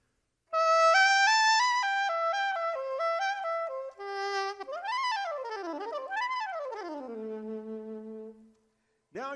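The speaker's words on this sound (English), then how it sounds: "Now the soprano sax is very high pitched. It sings in the range of a lady's voice." A soprano saxophone plays a bright, high-pitched solo of stepped notes followed by sweeping, gliding phrases, sustained and fairly loud, with a short pause before a final note begins.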